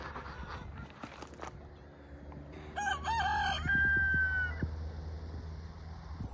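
A rooster crows nearby amid quiet farmyard background noise, a short strained call followed by a rising, drawn-out crow.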